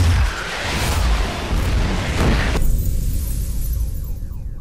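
An explosion in a film scene, set off when a computer reboots: a dense, loud roaring blast that fills the first half, then drops abruptly to a duller rumble with a thinner hiss above.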